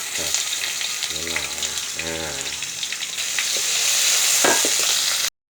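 Pork and garlic are stir-fried in hot oil, giving a loud, steady sizzle with spatula scraping. A person talks briefly over the frying early on, and the crackle grows stronger toward the end.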